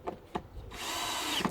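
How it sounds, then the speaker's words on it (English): A power drill drives into a wooden length on an allotment, with a few short knocks first, then a steady whirring run and a brief tail-off, close and fairly loud. "drill. I'm securing a wooden length to hold the main section down."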